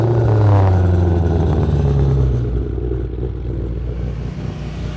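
A 2020 Shelby GT500 at a drag strip roars loudly with a deep engine rumble that rises in pitch as it launches, then fades slightly as the car pulls away.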